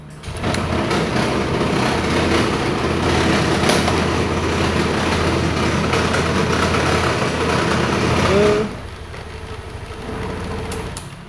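A motorcycle's small engine starts and runs loudly and steadily for several seconds at close range, then cuts to a lower idling hum near the end.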